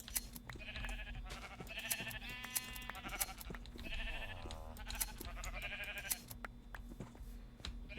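Several bleats from blocky video-game sheep near farm villagers, repeated short wavering calls with pauses, over a steady game background hum and occasional clicks.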